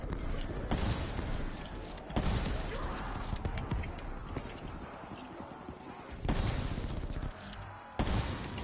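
Sniper rifle fire in Black Ops 3 cracks out as a few sharp, isolated shots, widely spaced, set against a dense, busy bed of battle noise.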